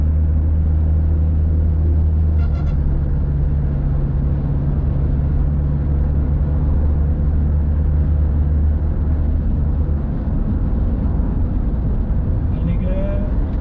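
A 2018 Toyota Innova Crysta 2.8 diesel automatic MPV cruises at 120 to 140 km/h, producing a steady low engine drone and road rumble that fill the cabin continuously, with someone talking over it throughout.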